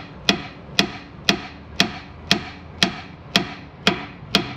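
Steady hammer blows strike a car ball joint in a repair shop, nine evenly spaced sharp metallic hits about half a second apart, close and clear with no talk.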